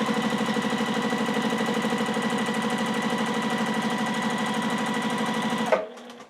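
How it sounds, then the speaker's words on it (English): A sewing machine runs at a steady fast pace, stitching fabric during free-motion straight-stitch quilting. It gives an even, loud, close mechanical chatter that stops abruptly near the end, with no voices. "I'm going to gently push the fabric through the machine"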